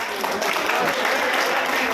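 An audience applauds in a hall at a wellness training program, a dense, steady wash of clapping that holds evenly throughout.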